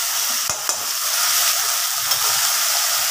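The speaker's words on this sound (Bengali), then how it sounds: "তো সামান্য পেঁয়াজ ফোড়ন, কালো জিরে পাঁচফোড়ন" Onion seeds, nigella and panch phoron tempering in hot oil for a Bengali red amaranth greens dish, giving a steady, close sizzle and fizz broken by a few sharp spice pops and stirring clicks.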